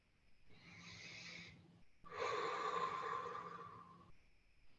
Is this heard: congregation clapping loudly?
no